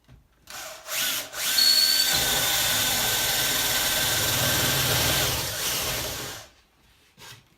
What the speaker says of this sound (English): put the spade bit in the drill and drill a hole through the plasterboard